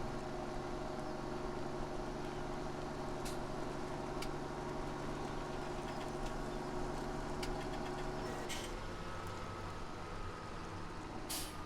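A tractor engine idles in Farming Simulator 17 on Rattlesnake Valley farmland. The low, steady mechanical drone holds at a constant level, with faint clicks and a small shift in tone near the end, and there is no talk.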